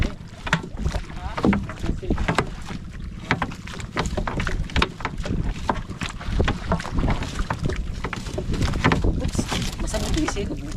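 A small boat passes at sea during a fishing trip, giving a steady, dense rush of engine and water noise with wind buffeting the microphone. Voices talk over it throughout.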